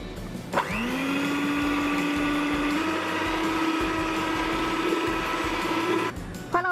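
Electric mixer whipping egg whites for a steamed coconut chiffon cake, starting with a sharp click, then a steady loud whirring motor hum that rises slightly in pitch and holds for about five seconds before cutting off, with no talk.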